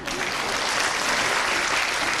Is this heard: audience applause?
yes